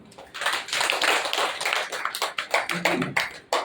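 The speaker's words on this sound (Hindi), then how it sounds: "अब अपने लिए ताली बजा।" A crowd at a spiritual murli gathering claps steadily, a dense burst of applause that rises quickly, holds, then breaks into more scattered claps near the end.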